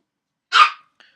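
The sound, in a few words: dog barking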